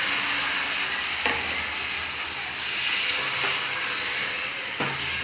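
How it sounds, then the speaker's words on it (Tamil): Chicken pieces frying for a chicken gravy, a loud continuous sizzle and hiss with a few soft scrapes of stirring spaced through, no talking. "ப்ரௌனிஷாக வந்ததுக்கப்புறமா நம்ம சிக்கன் போட்டுக்கலாம்"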